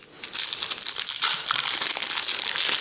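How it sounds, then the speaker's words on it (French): A Panini Adrenalyn XL 2019-2020 football card booster pack being torn open, loud close crinkling and crackling of foil wrapper that runs steadily for a few seconds without speech. "Allez, c'est parti, on va ouvrir un autre booster."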